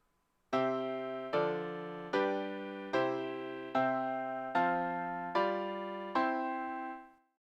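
Seven clean chords played one after another at an even pace, each striking bright and decaying slightly before the next, ending with a fade.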